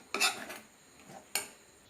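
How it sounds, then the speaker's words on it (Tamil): A spoon scrapes and clinks twice against a pan while spices are lightly stirred in oil for a coconut milk fish curry. Two short, sharp metallic bursts about a second apart, close up, with no talking. "அப்படியே அந்த எண்ணெயிலேயே அப்படியே லைட்டாக கிளறி விட்டுக்கலாம்."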